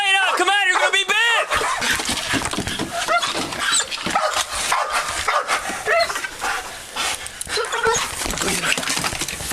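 A sheriff's office police dog gives repeated excited barks and whimpers up close, mixed with loud shouting voices throughout.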